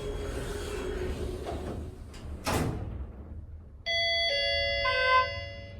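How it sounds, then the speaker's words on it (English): Low rumbling hum, a brief swish, then a modernized Schindler hydraulic elevator's electronic chime plays two bright sustained tones like a doorbell, clear and close, in a mall parking garage. "Dude, it sounds like a doorbell."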